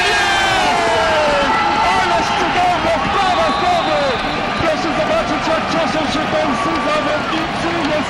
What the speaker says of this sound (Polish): Wielkie brawa, wielkie brawa dla drużyny przełamała